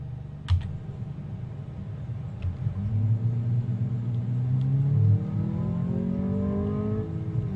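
Sporty four-door car engine in Car Mechanic 2014 on a test drive, a close low rumble rising through several revving sweeps and gear changes, with a few faint clicks at the start.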